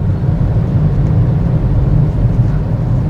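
A 2024 Toyota Vios engine held at high RPM, a loud, steady, dense drone with no letup and no talk.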